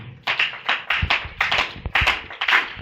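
A church congregation claps in a steady, fast rhythm. Sharp, even handclaps repeat about three times a second throughout and stay loud and close.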